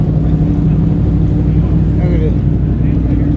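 Race car engine and exhaust at a driving school event, a steady loud rumble running through the clip while someone talks over it.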